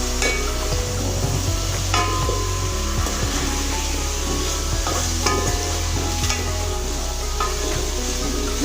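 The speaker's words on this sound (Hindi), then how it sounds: "आप इन्हें अच्छे से फ्राई कर लो जब तक ये थोड़ी सॉफ्ट ना हो जाए" Vegetables seasoned with salt and half a teaspoon of turmeric fry in a pan, with steady loud sizzling and occasional scraping stir strokes, plus a low constant hum underneath throughout.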